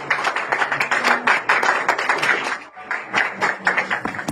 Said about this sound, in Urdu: خدا کے کلام کے لیے بھرپور تالیوں کے ساتھ اس کا استقبال کیا جائے